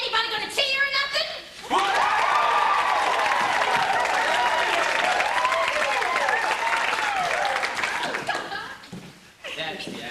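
A crowd at an old-time Oklahoma auction bursts into sustained cheering and applause that rises sharply and holds loud for several seconds before fading, with scattered shouts and laughter mixed through.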